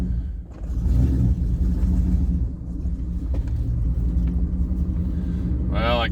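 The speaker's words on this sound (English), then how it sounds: "I'm going to back the truck up about 100 feet, and I'm going to pull back forward" A Dodge Dakota pickup truck rumbles as it backs up about 100 feet and then pulls forward, a close, steady low engine drone with a brief dip, ending in a short rising whine.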